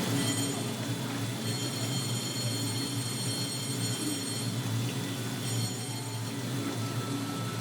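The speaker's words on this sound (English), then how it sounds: "So you can catch a little cable trolley train type thing up the hill." A steady rumbling cable trolley train running uphill at Baoquan Grand Canyon in Henan, China, with continuous rolling wheel noise and faint high squealing tones, sustained and fairly loud throughout.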